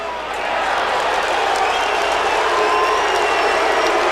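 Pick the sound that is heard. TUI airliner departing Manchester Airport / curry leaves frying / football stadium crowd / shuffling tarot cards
football stadium crowd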